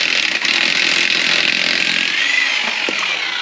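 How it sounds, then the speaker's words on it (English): A loud impact gun running continuously while removing the lug nuts from a 2013 Dodge Avenger wheel, a harsh buzzing whine held for several seconds close by, with no speech. "I have this impact gun that I'm going to use to take the lug nuts off"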